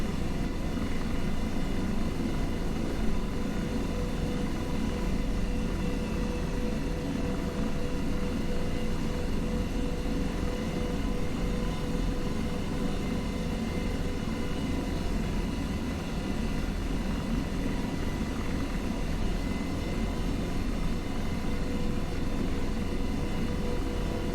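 An AH-64 Apache helicopter runs on the ground during a cold start, a steady, even turbine roar and whine that holds at close range for the whole stretch with no talk.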